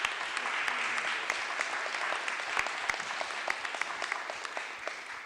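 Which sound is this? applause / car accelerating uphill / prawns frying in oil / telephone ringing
applause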